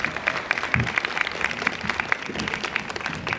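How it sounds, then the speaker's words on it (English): A crowd applauds steadily at a senior summit and older adults expo, many hands clapping at once in a dense, even patter. "A round of applause"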